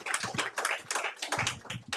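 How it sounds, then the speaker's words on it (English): Audience applause at a security conference, a crowd clapping steadily for about two seconds to welcome a speaker, with dense, fairly close hand claps and no pause. "Let's give him a round of applause"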